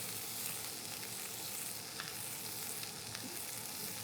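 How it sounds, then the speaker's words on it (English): Lobster tail sizzles and fries in a hot pan with a steady, close crackle and no voices. "this lobster tail is basically cooked on all sides."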